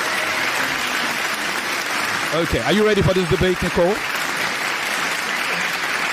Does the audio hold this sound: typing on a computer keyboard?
no